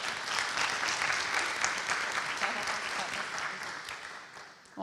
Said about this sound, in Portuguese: Gostaria que vocês recebessem com aplausos